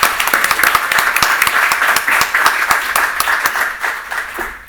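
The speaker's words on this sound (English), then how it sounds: "I assume the applause was for Dan's ending" Audience applause at a live education panel event, a crowd clapping with distinct individual claps audible, fairly loud and near, tapering slightly toward the end.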